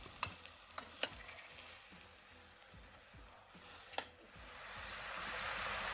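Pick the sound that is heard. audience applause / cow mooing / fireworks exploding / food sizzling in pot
food sizzling in pot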